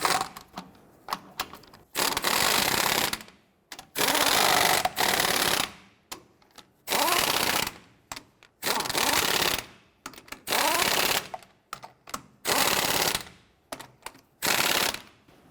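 Power tool on a Nissan Frontier snugging down lug nuts during a rear brake caliper job, rapid hammering bursts of about one to two seconds, repeated roughly eight times with short pauses between, loud and close.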